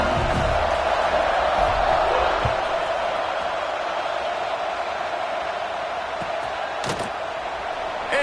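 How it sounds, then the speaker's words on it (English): Football stadium crowd at an Oregon State game roars in a steady, dense wash of noise after a score, loud and continuous throughout with a few faint thumps and a brief sharp whistle-like tone near the end. "this crowd is buzzing after that last score"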